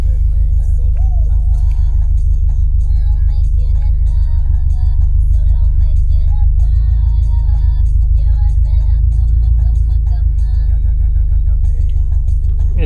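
A 2018 Subaru STI with an added fuel pump drives on a test run, its engine a loud, steady low drone heard from inside the car, with faint higher tones above it.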